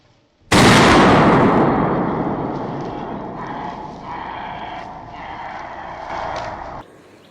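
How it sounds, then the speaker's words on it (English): A single loud rifle shot from a wild boar hunt cracks out sharply, then rolls away in a long, fading echo across open fields. "The crack of the rifle echoed across the fields"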